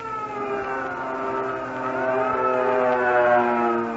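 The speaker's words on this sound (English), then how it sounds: "That signal read, the alert. That means we spotted the enemy planes coming over." A wailing air raid siren drones steadily, its pitch slowly rising and swelling louder, with layered harmonic tones and no voices.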